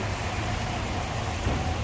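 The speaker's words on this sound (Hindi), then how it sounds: "तकरीबन 1 घंटे से बारिश जारी है" Heavy rain pours in a dense, constant hiss, loud and unbroken throughout, with no voices.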